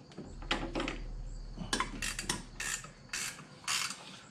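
A ratcheting wrench clicks in short rapid bursts, close and fairly quiet, with brief pauses between strokes during brake pedal and brake booster removal on a Nissan 300ZX.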